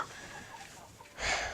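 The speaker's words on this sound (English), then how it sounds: "So if you hear the roosters crowing and the hens cackling," Hens clucking in a hen house where freshly laid eggs are collected, a soft low murmur of birds that swells into a louder, brighter burst of clucking near the end.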